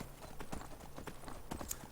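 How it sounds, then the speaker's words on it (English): Horse hooves clip-clop steadily on the ground in Skyrim, a quick even walking rhythm at moderate distance, faint and unaccompanied by talk. "Stolen horses don't stick by you. They just kind of walk away."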